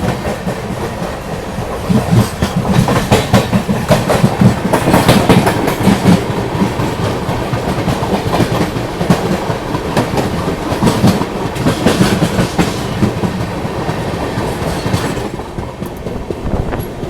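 The Chennai Central–Mangalore West Coast Superfast Express rolls along the rails, a loud, steady rumble with continuous rhythmic clickety-clack of wheels over rail joints heard close from on board.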